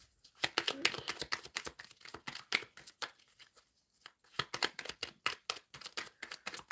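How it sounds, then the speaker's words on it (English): A tarot card deck is shuffled up close in rapid, rhythmic bursts of crisp riffling snaps, pausing briefly midway before resuming, with little else in the background. "I'm shuffling for the collective"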